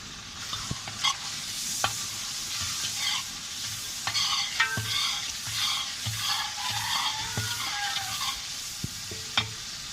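Spices for haleem frying and being stirred in a large deg, a loud continuous sizzle broken by repeated sharp scrapes and metallic knocks of the ladle, no speech.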